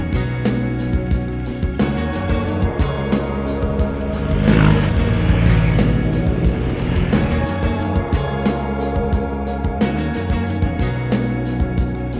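A BMW GS 800 Adventure motorcycle rides steadily on a Cairns to Cape York trip, its engine a continuous loud drone with a rise in revs around the middle and rhythmic mechanical ticking throughout.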